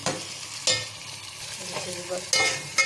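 Potatoes fry in hot oil in a pan with a continuous close sizzle, and two sharp scraping stirs stand out at the start and near the end.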